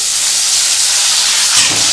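Tomatoes dropped into hot oil in a pan while cooking a Bengali fish roe curry: a loud, steady bright hiss of sizzling, swelling slightly near the end, with no talking.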